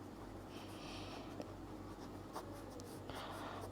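Faint pen scratching on paper while a maths solution is written out, with soft continuous strokes and a few small taps, close and quiet with no speech.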